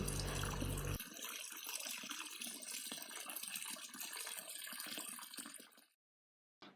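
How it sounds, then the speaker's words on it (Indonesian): Hands being washed with soap under running tap water, a steady close rush of water that cuts off near the end before a brief faint sound returns. "cuci tangan dengan air bersih mengalir dan sabun"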